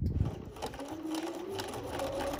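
A Bernina B 215 or 3–7 series sewing machine stitches a buttonhole in quick reverse, a short, moderately quiet mechanical whir with soft rapid ticking from the needle, heard alone.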